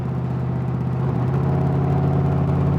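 A kit car's engine runs steadily as it drives along, a loud, close, continuous low rumble and hum with a slight rise in pitch partway through and no speech.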